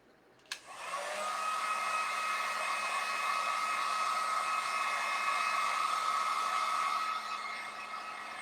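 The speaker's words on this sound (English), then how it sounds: "I'm going to use my heat gun on them." A heat gun switches on with a click and blows steadily over craft items, a constant loud whooshing hum that holds evenly before easing slightly near the end.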